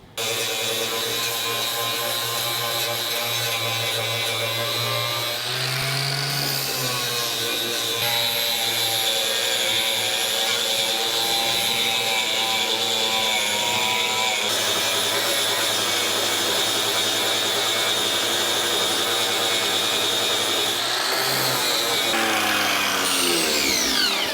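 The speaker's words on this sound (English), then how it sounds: "just knock the bulk of it down with the sanding disc and come back with the band file and finish it" A sanding disc grinds down welds on the firewall of a 1986 Chevy K30 truck, giving a loud continuous whine that runs the whole time with shifting pitch and brief dips as the tool's load changes.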